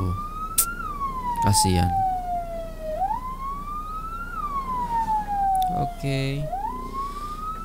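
An ambulance siren wails, rising and falling in long sweeps on a Malaysian main road, loud and close, with traffic rumble and brief voices speaking over it.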